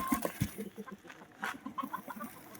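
Three newly arrived hens in a coop cluck in soft, irregular bursts, close by and fairly quiet, with no talk over them.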